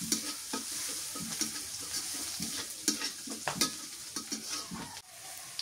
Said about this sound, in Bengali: রসুন মরিচ ভাজা হয়েছে